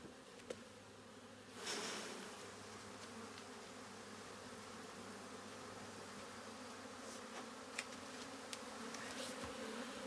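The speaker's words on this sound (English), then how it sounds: "This is where we start to see some bees flying about." Honey bees flying around a hive frame during an inspection, a steady soft buzzing drone with occasional louder passes close by, faint and continuous, no talk.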